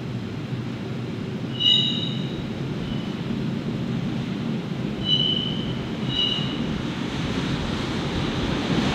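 A steady, heavy rumble of a car shuttle train carrying vehicles through the Swiss Alps, with a few brief metallic squeals rising over the continuous noise.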